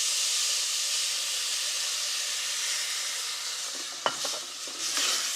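Rice coated in fat sizzles and hisses steadily in a hot pan, then a sharp burst of crackling and spitting erupts as wine is poured in, with stirring sounds following.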